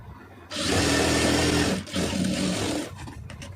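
A sewing machine runs steadily, stitching the sleeve seam of a blouse in one sustained whirring burst of about a second and a half, then a brief pause and a second run before it stops, close and loud with no talk.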